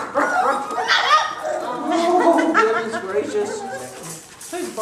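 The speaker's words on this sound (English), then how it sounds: "Who's barking?" Yappy, high-pitched barks and whimpers from 4-week-old Golden Retriever puppies mixed with a person talking nearby, the barking coming in short bursts throughout.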